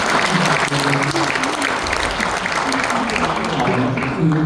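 A church congregation gathered for a lecture claps together in a sustained, even burst of applause filling the room, with some murmuring voices beneath it.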